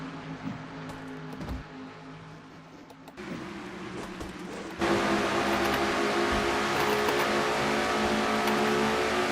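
Chrysler race cars in a simulated Nashville series race accelerate out of turn two, engine drone building in steps from faint to a steady, louder onboard roar.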